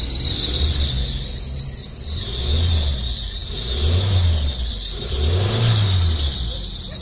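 A car engine fitted with a Holley carburetor, on a Dodge Shadow, Spirit or Dakota, is revved in three smooth rising and falling swells over a steady idle, with a high squeal running throughout.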